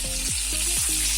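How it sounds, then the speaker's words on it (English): Potatoes stir-fried in a pan with garlic and chili give a dense, steady hiss of frying, with a repeating low periodic sweep under it, close and continuous with no talking. "And I'm going to stir fry it a bit."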